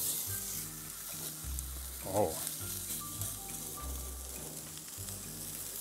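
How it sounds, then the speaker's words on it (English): Wagyu steak sizzles steadily in a hot pan, a close, continuous frying hiss with a brief louder burst midway, while a voice briefly exclaims over it. "Let's get some sizzling going."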